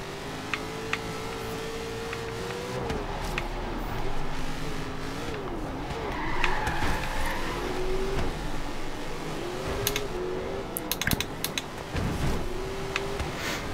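An engine drones and shifts pitch as a muscle car is driven in Forza Horizon 3, with revs rising and falling through gear changes and brief sharp tire scrapes and clicks, steady and close throughout.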